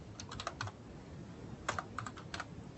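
Keys clatter on a computer keyboard in two short bursts of quick, light taps with a pause between, close and fairly quiet, with no talking.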